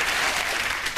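Studio audience applause on a 1995 comedy show, a loud, dense burst of clapping that fills the whole moment without any talk.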